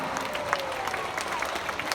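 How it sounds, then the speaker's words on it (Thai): An audience applauds a schoolgirl at the Terminal 21 Crystal Contest 2023, steady clapping from a crowd that stays even throughout. "ขอเสียงปรบมือ"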